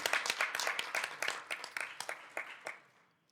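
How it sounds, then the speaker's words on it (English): School board meeting audience clapping for newly appointed principals, a modest scattering of individual claps close by that thins out and fades to quiet by the end. "Big round of applause for our"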